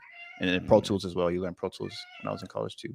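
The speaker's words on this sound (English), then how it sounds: "Sorry if you can hear my cat in the background." A house cat meows in the background, faint and brief, beneath someone speaking steadily in the foreground during a live interview.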